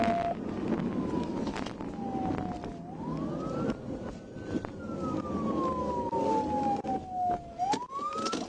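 A police siren wails in long rising and falling sweeps, loud and steady over continuous road and engine noise during a pursuit, with no voices.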